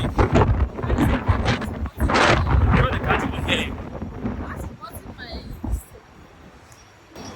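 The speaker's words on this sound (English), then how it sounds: "This wind is too much." Strong, cold outdoor wind buffets the microphone in loud, rough gusts, easing toward the end, with a person talking under the roar.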